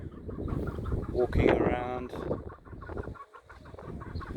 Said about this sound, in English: And we've got some chicken here.